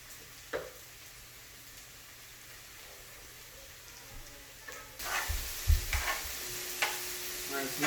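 Taco filling with onion fries in a pan at a quiet, steady sizzle, broken by occasional scraping knocks as it is stirred, with the stirring growing busier and louder toward the end and no speech.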